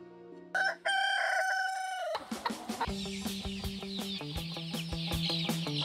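A rooster crows loudly up close, then a flock of chickens on a large farm clucks and cackles continuously, overlapping calls filling the space.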